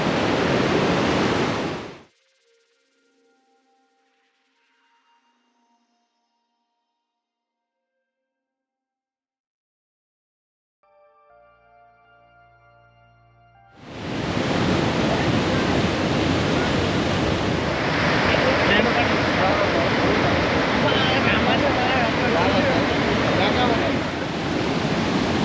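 Putpute waterfall on the North Annapurna trek pours with a dense, steady rushing roar. It is loud at the start, cuts to near silence with faint sounds, then returns just as loud and unbroken.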